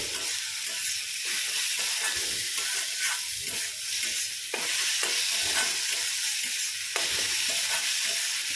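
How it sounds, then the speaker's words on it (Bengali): Red amaranth greens fry in a pan on a gas stove with a steady close sizzle and hiss, broken by repeated scraping stirs of a spatula, with no voices. "এদিকে দেখো লাল শাকটা ভাজাও হয়ে এসছে"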